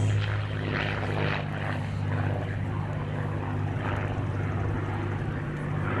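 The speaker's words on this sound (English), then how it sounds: "Nice photo opportunity here as Sean pitches up at the end of this pass." A Spitfire flies a display pass at the Classic Fighters airshow in Omaka, its propeller engine a steady, loud, continuous drone from start to finish.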